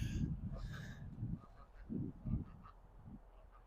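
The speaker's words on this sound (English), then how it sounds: "They're pretty good-sized ducks." Large ducks out in the snow give loud, hoarse quacks and honks in several separate bursts, with quieter calls and faint rustling between them.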